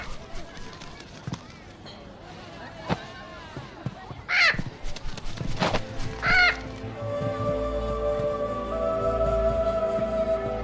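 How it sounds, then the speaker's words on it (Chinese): A parrot gives two short, sharp squawks between spoken lines of dialogue, with soft music rising in the background afterward. "哪儿来的臭鸟？"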